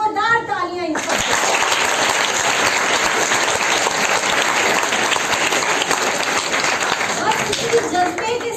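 A crowd at an outdoor election awareness event gives loud, sustained applause for BLOs, students and officials. The clapping bursts in after a brief voice and continues densely throughout, close and full.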